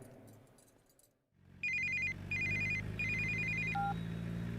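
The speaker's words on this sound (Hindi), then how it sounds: "ए सुन, तेरे लिए फोन है।" A telephone rings in repeated electronic trilling bursts, loud and close, following a brief lull under a low background hum.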